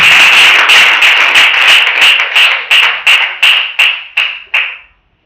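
A church congregation claps and cheers for Jesus in a loud, dense roar that breaks into rhythmic pulsing bursts of clapping, each one decaying before the next, until the sound stops abruptly.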